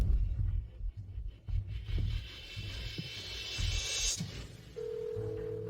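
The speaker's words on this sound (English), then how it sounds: "But the landline in the CEO's office should work, right? I'll call him right away." A landline telephone being dialed indoors, with faint tones and button presses under a low background hum that ends in a steady ringing tone.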